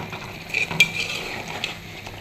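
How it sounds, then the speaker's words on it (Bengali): Curry being stirred in a pan just after mustard paste goes in, with soft scraping and light sizzling, a few brief utensil clinks standing out, close and fairly quiet. "সর্ষে বাটা দিয়ে দিলাম।"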